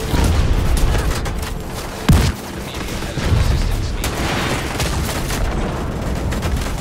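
Mortar impacts and gunfire rumble through a two-player Iron Horse raid in Tom Clancy's The Division 2, a dense ongoing barrage with a sharp boom near the two-second mark and another heavy burst around three seconds.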